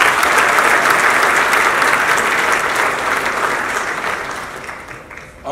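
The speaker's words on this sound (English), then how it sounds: "Let's give them a big round of applause" Dense applause from an awards ceremony audience, loud and steady at first, then slowly thinning and fading toward the end, with no voices over it.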